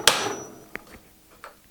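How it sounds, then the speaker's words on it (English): One sharp hammer whack knocks a glued wood piece off a laminated kitchen door. A couple of faint knocks follow in a quiet room. "give it a good old whack with a hammer"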